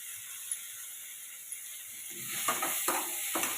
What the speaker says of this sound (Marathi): टोमॅटो चांगला तेलात फ्राय होऊ द्यायचा